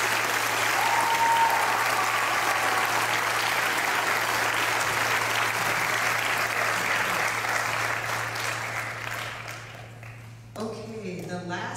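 Sustained audience applause fills a school orchestra concert hall, a dense steady wash of many hands clapping for several seconds before thinning and fading, with a voice starting to speak at the end.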